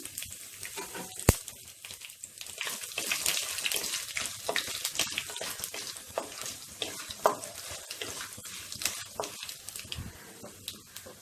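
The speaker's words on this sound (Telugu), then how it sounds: "ఇవి కొంచెం వేగిన తర్వాత ఎండుమిరపకాయ ముక్కలను వేసుకుని వేయించుకోవాలి." Dried red chili pieces frying in hot oil for a foxtail millet and amla pulihora, a steady close sizzle with scattered stirring clicks and scrapes running throughout, no voices.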